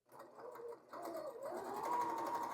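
A sewing machine chain-pieces quilt blocks, stitching in a quiet, steady run with a brief pause before picking up speed again, close and alone.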